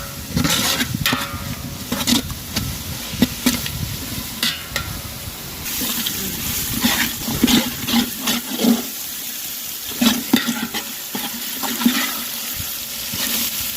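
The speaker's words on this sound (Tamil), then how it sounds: "இப்போ நம்ம இஞ்சி பூண்டு பேஸ்ட் போட்டுக்கலாம். இதோட பச்சை வாசனை போகிற வரைக்கும் நல்லா கிளறி விட்டுருங்க." Ginger garlic paste frying with tomatoes in a pan for chicken dum biryani, stirred steadily, giving a continuous sizzle and wet hiss with repeated scraping and clattering strokes from the spoon, close and loud.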